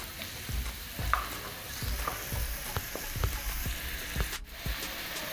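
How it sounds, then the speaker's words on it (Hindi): Tomatoes go into onions frying in a pan for Patiala chicken, with a steady close sizzle under regular scraping stir strokes roughly every half second. "अब मैं इसमें टमाटर डाल दूंगी"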